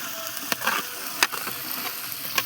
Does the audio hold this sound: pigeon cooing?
no